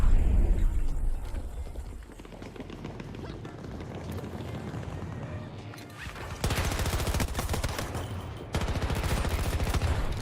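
Gunfire in Battlefield 2042 at sentry guns, rapid bursts of shots that grow denser and louder partway through, mixed with other game noise and some talking.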